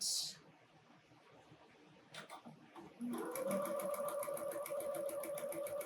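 A sewing machine stitching a quarter-inch seam on a snowman appliqué quilt project starts up after a few light clicks and then runs steadily with a fast, even needle rhythm, close and clear.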